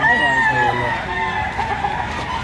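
A rooster crows loudly and close at a chicken auction in Lipa, with other fowl clucking around it and a voice talking over the birds.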